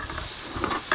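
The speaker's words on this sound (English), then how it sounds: "Oh yeah, and you can hear that sizzle." Steady sizzling of red snapper fillets on a hot grill, a bright continuous hiss with faint crackles, close and fairly loud.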